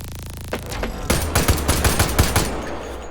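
Rapid bursts of gunfire in the VR shooter game H3VR, a steady string of loud, sharp shots about twice a second after a softer start, near and alone.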